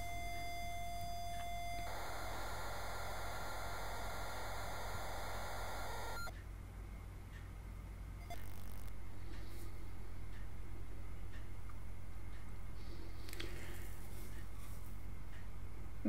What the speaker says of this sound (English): here we've got the familiar loading tone